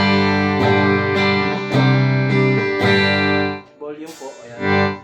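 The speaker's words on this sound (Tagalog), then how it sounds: "Bridge pickup, ito po yung tunog." Electric guitar on its bridge pickup, a run of bright strummed chords struck roughly every half second, close and loud, then a brief pause and a few softer plucked notes.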